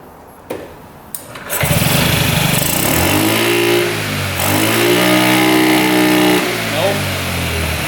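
A free scooter's small engine running rough after a carburetor clamp was replaced, starting up loud after a few clicks and then revving unevenly with a boggy, wavering drone as a voice speaks over it.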